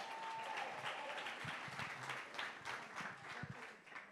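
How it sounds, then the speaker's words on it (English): An audience at a live entrepreneurship chat event breaks into sustained applause, a dense wash of clapping from many hands that holds steady before tapering slightly at the end, heard from a moderate distance. "Round of applause"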